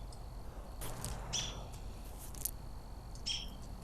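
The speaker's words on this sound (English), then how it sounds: "Can you hear them birds? I've been listening to that all day." Birds singing outdoors, a few faint high chirps and short tweets spaced apart over a quiet background hum.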